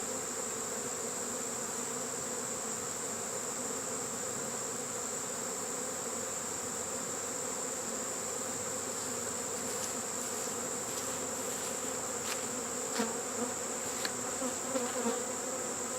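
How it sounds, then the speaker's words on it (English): A honey bee swarm buzzes steadily and loudly inside a swarm trap box, a dense continuous drone with a few sharper individual bees passing close near the end. "The buzzing inside this box is unbelievable."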